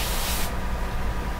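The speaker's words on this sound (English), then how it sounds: "one of the ways that you can put your finger underneath and spray, and you'll get a softer edge." A short, steady hiss of an airbrush spraying sepia paint for a portrait, with a finger held under the nozzle for a softer edge; the spray cuts off after about half a second, leaving quieter background noise.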